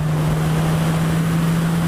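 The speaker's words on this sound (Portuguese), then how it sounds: "O som do escape bate nele, fica bonito." A Suzuki GSX-S1000 motorcycle cruises at night along roadside walls, its exhaust a steady, loud, unbroken drone with a deep low hum and wind rush.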